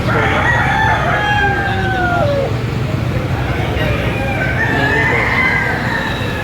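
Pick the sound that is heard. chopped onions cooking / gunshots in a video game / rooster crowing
rooster crowing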